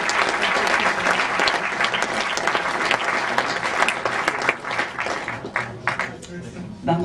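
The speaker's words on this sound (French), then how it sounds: "On applaudit bien fort, Jenny" Loud, dense audience applause at a European fantastic film festival awards ceremony in Strasbourg, greeting a short-film jury member, sustained throughout and thinning slightly toward the end.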